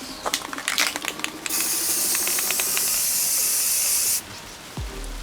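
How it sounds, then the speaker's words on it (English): Aerosol spray paint hisses in a steady, loud burst lasting a few seconds, preceded by clicking and rattling of the can, then cuts off abruptly. "I always want to be spraying down into the area. I'm just going to lightly coat it over time."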